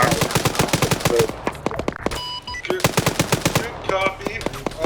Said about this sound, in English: There's some suppressive fire.